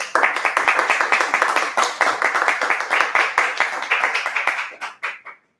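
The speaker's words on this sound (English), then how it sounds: "I think he deserves a round of applause." A small meeting audience claps in a round of applause: distinct, fairly sparse handclaps in a steady rhythm that thin out and stop at the end.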